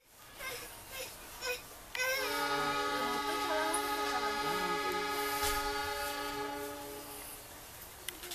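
An Indonesian train's horn blares in a long, steady chord for several seconds over station bustle at departure, starting abruptly and fading slightly as it holds.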